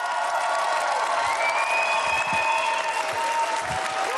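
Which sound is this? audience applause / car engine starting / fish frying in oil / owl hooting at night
audience applause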